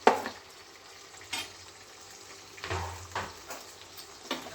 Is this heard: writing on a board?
no